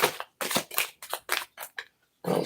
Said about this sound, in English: I'm giving lots of shuffles here.